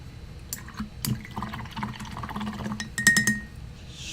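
A paintbrush swished and rinsed in a water pot while painting Warhammer 40k Dark Eldar Hellions miniatures, giving soft sloshing and clinking taps against the container, brief and fairly close, with a sharper rattle near the end.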